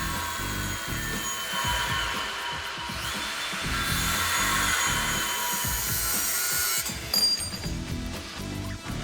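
A power tool trims a metal frame bar on a Mazda car build, giving a sustained harsh grinding buzz with a rhythmic pulsing underneath, close and loud throughout.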